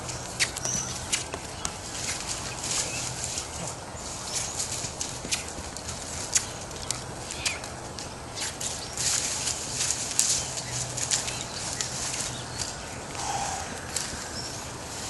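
A horse walks over very uneven ground on a Colorado ranch, its hooves giving a steady, irregular clip-clop of light thuds and crunches throughout, moderately close, over outdoor background noise.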